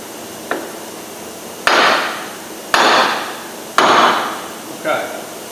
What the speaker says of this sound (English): we're just going to knock this shaft through with a large hammer